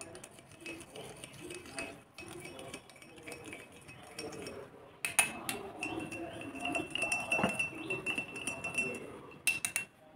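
A spoon stirs a green mango drink with sugar and salt in a glass, giving repeated irregular clinks and scrapes against the glass, close and fairly light, with faint voices now and then.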